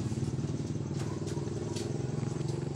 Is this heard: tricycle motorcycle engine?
yes